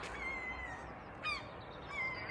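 Seagulls flying over at breakfast time, giving a few short squawking calls at a distance over a faint outdoor background hum.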